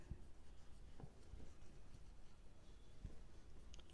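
Pen or marker writing by hand during a commerce accounts lesson gives faint, soft scratching strokes with a few light taps, close but quiet, and no voices.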